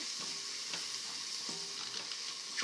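Chicken curry being stirred in a hot pan, with steady sizzling under repeated scraping strokes of a utensil at a fairly even rhythm, close and moderately loud.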